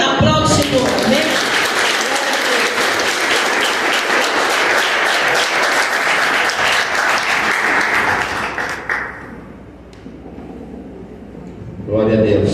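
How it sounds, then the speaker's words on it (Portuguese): A church congregation claps loudly in a sustained burst during a service, the clapping fading out near the end before a voice resumes speaking. "Aplaude o Senhor"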